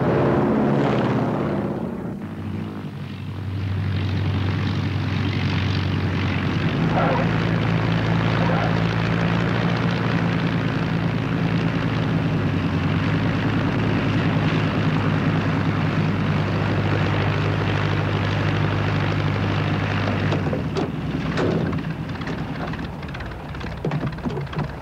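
A propeller aircraft comes in to land, its engine drone loud and close with a continuous low throb that shifts pitch partway through, with no talking over it.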